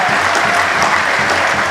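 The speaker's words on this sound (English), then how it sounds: "Let us clap for them and welcome them." A large audience at a church plenary assembly applauds in a dense, sustained wash of clapping that is loud and continuous throughout, with faint voices mixed into the crowd.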